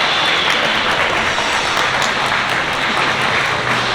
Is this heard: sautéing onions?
no